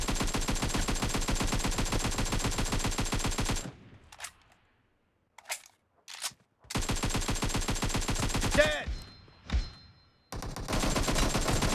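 An AKM rifle in a shooting video game fires long, rapid automatic bursts of closely spaced, loud shots, stops for a few seconds of near silence with scattered single cracks, then opens up again in sustained full-auto fire.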